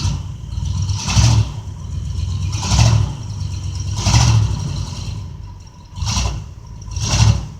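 An Austin Allegro stuck in mud, its engine revving in repeated surges about every one and a half seconds over a steady running drone, with the wheels spinning, loud and close.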